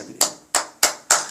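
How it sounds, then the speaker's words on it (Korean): Four sharp bursts of clapping from a church congregation arrive in a steady rhythm, loud and close, with no voices in between. "박수 한번 쳐드려요"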